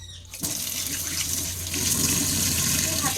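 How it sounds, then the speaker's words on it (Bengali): Tap water runs steadily into a kitchen sink being scrubbed clean before cooking, a continuous broadband splashing rush that starts abruptly and grows slightly fuller partway through, close and loud with no talk. "আমি বেসিনটাও একটু মেজে নিচ্ছি, কারণ এখন তো রান্না বান্না করব, সবজি ধোয়ার ব্যাপার আছে"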